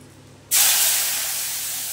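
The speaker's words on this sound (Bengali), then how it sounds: "এই পেঁয়াজটা ততক্ষণ পর্যন্ত ভাজবো যতক্ষণ না পর্যন্ত একটুখানি ব্রাউন শেপ ধরবে" Chopped onion dropped into hot oil tempered with whole dried chillies and bay leaf, bursting into a loud, bright sizzle that then settles into a steady, close hiss over low heat.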